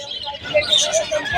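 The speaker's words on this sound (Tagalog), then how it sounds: "Siyempre, unahin doon mga zebra finch." Zebra finches chirp at a pet market in a quick cluster of short, bright, close tweets, loud and busy over a faint background, with no talk.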